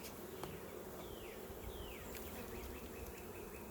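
Bees buzz around an open beehive in a dense, continuous hum, close and steady, with individual insects droning past at times.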